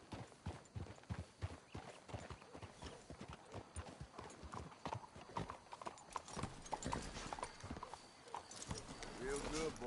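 Hooves clip-clop at a walking pace in Red Dead Redemption 2, several horses close by, with a faint snort and creaking gear near the end.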